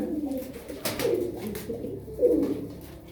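Pigeons coo softly nearby in low, throaty bursts, with a few overlapping calls and faint background noise.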